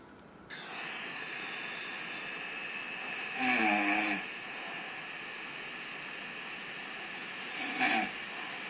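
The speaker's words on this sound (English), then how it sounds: "Those are my snores." Recorded snoring played back from a sleep app, two slow snores several seconds apart, each a rough, rattling inhale rising out of a steady hiss of background noise.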